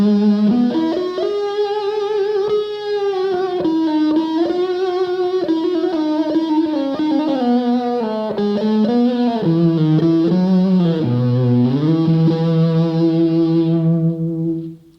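An electric guitar with a thick, cello-like tone and a slight amp edge, playing a sustained, singing melodic line of bending notes, loud and continuous until a brief fade at the end.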